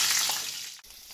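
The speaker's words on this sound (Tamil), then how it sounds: "எண்ணெய் காய்ஞ்சி பாருங்கள், பத்தெல்லாம் போட்டுக்கோங்க." Whole spices drop into hot oil in a home kitchen while cooking Hyderabadi green chilli chicken, giving a brief steady sizzle and hiss up close with no talk.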